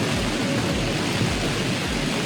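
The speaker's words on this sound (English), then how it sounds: "And rain a little bit more, and rain really hard." Heavy rain pours down in Portugal, a dense, loud, continuous hiss with low rumbling underneath and no other sounds.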